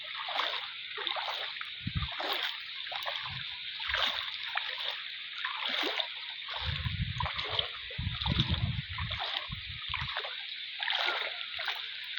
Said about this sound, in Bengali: এই যে জাল মারতেছে রাস্তার উপরে